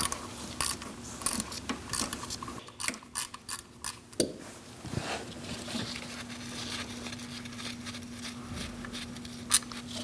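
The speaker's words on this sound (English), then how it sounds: "get a 10mm socket, a short one, with a 1/4" ratchet, and loosen up your bolt" A 1/4 inch ratchet with a short 10mm socket loosens a bolt on a 2000-2006 Mini Cooper's camshaft position sensor, giving a series of close, crisp clicking bursts followed by quieter fiddling and a low steady hum.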